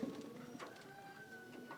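Pigeons perched on a roof give soft cooing calls, faint and a little distant, in a short moment with no talking.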